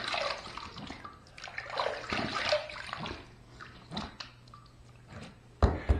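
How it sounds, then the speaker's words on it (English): Running water splashes and trickles in bursts as a face is rinsed after a wet shave, with a few drips and a louder splash near the end; no one speaks. "let's rinse."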